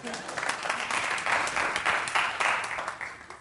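Congregation applause during a church sermon, a sustained wash of clapping that swells and fades over a few seconds with some voices mixed in.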